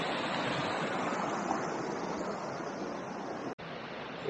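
Water cascading down into a forest creek with tea-tree stained water, a steady close rushing hiss of aerated flow that carries on unbroken apart from a momentary dropout near the end.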